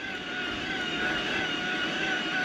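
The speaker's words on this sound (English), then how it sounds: "You can hear the motor as well. Sounds similar to a Shimano, but marginally noisier." An electric bike's mid-drive motor working in turbo mode gives a steady, whining hum with a thin high tone, constant and close throughout, with no talk over it.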